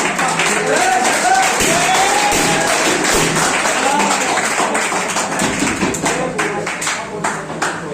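Teachers' Day gathering applauding to welcome the secretary, loud sustained clapping from a crowd that continues throughout, close and dense, with some voices mixed in.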